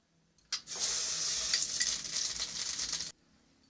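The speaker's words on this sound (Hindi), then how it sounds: "कढ़ाई हमारी गर्म हो चुकी है। अब हम इसमें" Desi ghee poured into a hot kadhai, bursting into a loud, steady hiss and sizzle that lasts about two and a half seconds and then stops abruptly, heard close with no talk.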